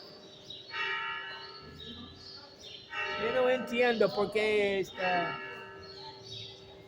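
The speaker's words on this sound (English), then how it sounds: "That's kind of a weird bell. You hear that bell?" A church bell rings in a few spaced strokes while someone speaks nearby; faint birds chirp in the background.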